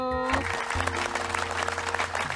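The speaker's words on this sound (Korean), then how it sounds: "박수!" Young children in a Sunday school infant class clap together after finishing a craft activity. The clapping is steady and continuous, with music playing underneath.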